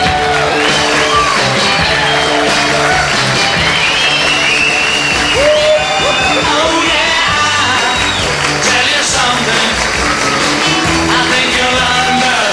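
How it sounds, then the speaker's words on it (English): Sustained audience applause with some cheering and whoops at a radio hall of fame induction ceremony, loud and continuous, mixed with music throughout. "All right, stop clapping."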